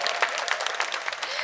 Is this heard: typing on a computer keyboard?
no